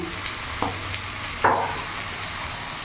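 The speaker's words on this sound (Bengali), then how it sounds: "ভালো করে নাড়াচাড়া করে নেব" Cabbage frying in a pan with turmeric, cumin and chilli powder while being stirred, giving a steady close sizzle with a few sharper scraping clicks of the spoon against the pan.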